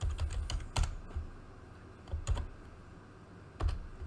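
Typing on a computer keyboard while writing Python code, with irregular bursts of key clicks and a few louder spaced strokes, close and fairly quiet, with no talking.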